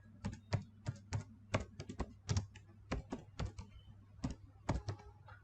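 Computer keyboard keys typed in a quick, uneven run of crisp clicks while entering a folder name in a SharePoint document library, close and fairly quiet over a low steady hum, with no talking.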